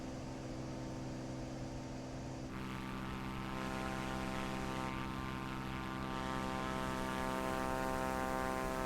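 A Cessna 400 Corvalis propeller plane climbs after takeoff in the flight simulator MSFS2024, its engine and propeller droning in a loud, steady, continuous hum that grows slightly stronger.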